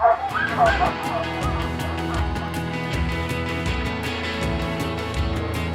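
Excited sled dogs yipping and barking in a busy, overlapping chorus, some whimpers mixed in, steady and fairly close, with a low engine-like rumble and possible faint talk underneath.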